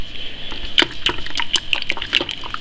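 Elderberry wine must stirred in a container, giving a close, steady run of wet sloshing and splashing with small clicks against the sides.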